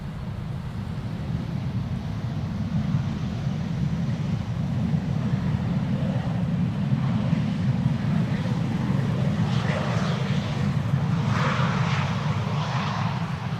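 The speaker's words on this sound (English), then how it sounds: "That is Pegasus. A321neo, flight 1251. Coming in from Istanbul." Pegasus Airbus A321neo airliner arriving at Schiphol Airport from Istanbul: a steady low engine rumble and roar, fairly loud and sustained, with faint higher whine building toward the end.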